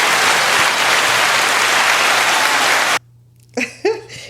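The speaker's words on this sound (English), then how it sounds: "So I want to give you an applause." An audience claps for about three seconds in a dense, loud round of applause that cuts off abruptly, followed by a few short voice sounds.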